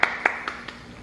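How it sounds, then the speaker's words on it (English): Four slow, evenly spaced hand claps, close and crisp, each one a little quieter than the one before. "Let's put a smile together and clap"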